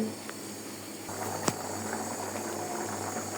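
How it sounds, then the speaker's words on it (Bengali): A rohu fish and potato curry bubbles at a boil in a pot, a low steady simmering hiss with a single sharp clink partway through. "দেখেন অলরেডি আমার তরকারিটা বলক চলে এসেছে"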